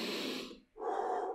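Loud breathing during an abdominal core workout: a long rushing inhale through the nose, a brief pause, then a strong exhale out through the mouth, close and alone.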